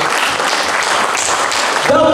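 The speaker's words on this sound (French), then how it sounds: "nous allons donner un peu d'applaudissements à tous les DDI d'avoir organisé ce soir de gala" Loud, close applause from a gala-evening audience at a benefit dinner, with dense, vigorous clapping filling the room throughout and a voice starting to speak just as it ends.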